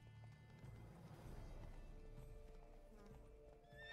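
Roach the horse gallops with rapid clip-clopping hooves and lets out a neigh in Witcher 3: Blood and Wine, up close and steady over a low in-game ambient bed.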